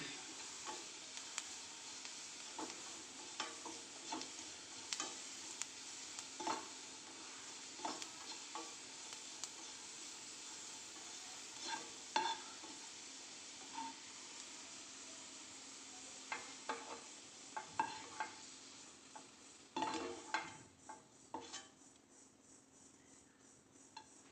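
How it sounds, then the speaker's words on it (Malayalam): Sliced onions fry in hot oil for a fish biryani, a steady close sizzle broken by repeated clinks and scrapes of a ladle stirring and scooping them out. "ഏകദേശം ഇതായത് ഉള്ളി വറുത്തിട്ടായിട്ടുണ്ട് അപ്പം നമുക്കത് കോരി വെക്കാം"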